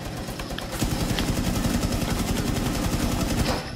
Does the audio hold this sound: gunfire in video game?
yes